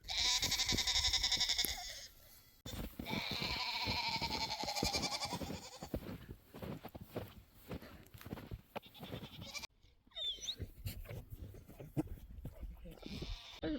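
Goats bleat in loud, drawn-out calls at the start, mixed with people talking nearby and some shuffling outdoor noise in snow.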